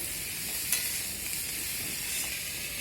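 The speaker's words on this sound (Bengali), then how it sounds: "তো আবার একটু হলুদের গুঁড়ো দেওয়ার পর নেড়ে চেড়ে নেব।" Spiny gourd (kakrol) and potatoes with turmeric powder being stirred in a pan, a soft continuous sizzle with faint scraping and a brief clink, quiet and without talk.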